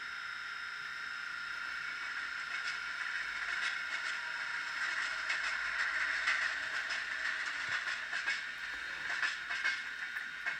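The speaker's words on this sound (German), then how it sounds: "so das ist ein Eisenbahn geht durch" A Fleischmann DCC sound module on a model railway plays an electric locomotive passing by: a steady, soft, rushing rumble with scattered rail clicks and scraping, heard alone for about ten seconds.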